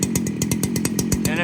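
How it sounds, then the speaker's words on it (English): Husqvarna 395 XP chainsaw held at high RPM and four-stroking, a loud close buzzing whine with a rapid pulsing gurgle across the whole short burst. "if you heard there at the high end, it wants to gurgle a little, or what we call four-stroking"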